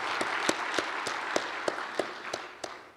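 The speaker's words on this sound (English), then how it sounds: "I'd like to give one more big round of applause for all the incredible presenters, moderators, and panelists." Quiet, thinning applause at a workforce panel event, with a handful of distinct claps standing out at a slow, even pace over a soft background wash that fades toward the end.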